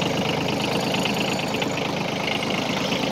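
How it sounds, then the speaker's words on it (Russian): A Kubota Aste A13 tractor's diesel engine idles steadily at close range, a low, even rumble with a faint rhythmic knock and no voices. "Двигатель работает тихо."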